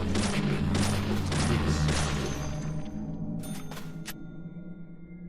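Gunfire in the horror video game Deadly Premonition: a rapid run of loud, booming shots fills the first two seconds over steady low music, then fades, leaving a few sharp clicks and a brief spoken word.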